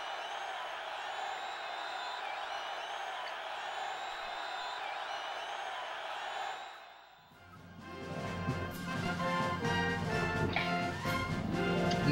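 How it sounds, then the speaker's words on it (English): Crowd cheering on a loading screen in Mario & Sonic at the Olympic Winter Games, a steady roar of voices for about seven seconds that then gives way to game music. "After this loading screen of people cheering for some odd reason."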